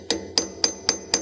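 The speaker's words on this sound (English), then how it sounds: "So what we're doing is we have a chisel and a hammer." A hammer strikes a chisel against a copper washer on a Ford 9-inch center chunk carrier, giving five sharp metallic taps at a steady, even rhythm, close and loud, with no talking.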